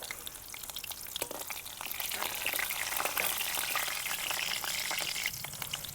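Green chillies fry in hot oil for a dal tempering, a soft, steady crackling sizzle with scattered pops, fairly faint and with no voices.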